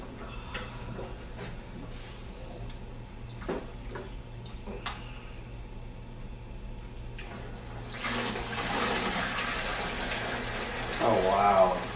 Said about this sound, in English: Let's go ahead and pour it in one of these canisters so we can show everyone exactly what we got here.